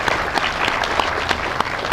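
Audience applause at a city's State of the City address in Boulder City, Nevada: steady, dense clapping from a sizable crowd filling the room, with a few sharper claps standing out.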